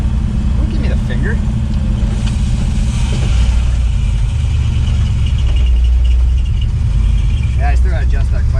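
A 1961 Pontiac Laurentian with a 4-speed, its engine rumbling loudly and steadily at close range with a deep low drone that swells midway, while people talk over it.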